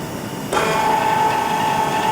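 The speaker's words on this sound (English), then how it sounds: "the position of the actuator changes to 0 and the valve closes" An electric valve actuator kicks on abruptly and drives the valve closed, producing a steady, fairly loud motor whine that holds an even pitch without pauses.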